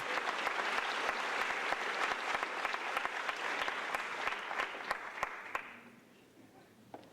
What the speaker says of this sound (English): Let's give all our ladies one big round of applause here